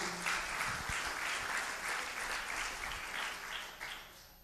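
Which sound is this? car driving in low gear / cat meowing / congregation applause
congregation applause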